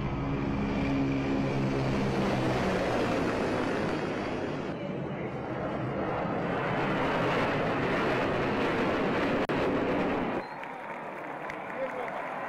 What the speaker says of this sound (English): The flypast concluded with a Su-30 MKI fighter jet carrying out a vertical Charlie maneuver over the saluting dais.